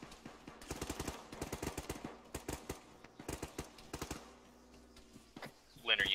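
Bursts of rapid gunfire crackle through a video game battle in repeated short volleys, moderately close, with brief pauses and a voice speaking over parts of it.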